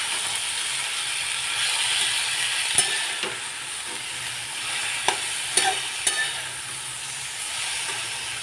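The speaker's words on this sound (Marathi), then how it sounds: "हलवून घेऊ छान।" Pole beans frying in hot oil in a village-style home kitchen are stirred with a steady broadband sizzle, joined by a few sharp utensil clinks and scrapes against the pan; no one speaks.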